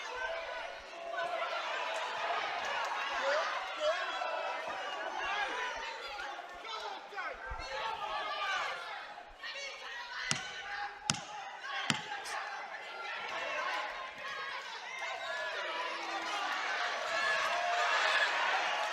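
Crowd at a live boxing match cheering and murmuring in a broad roar, with a few sharp punch-like thuds standing out midway, while commentators talk over it throughout.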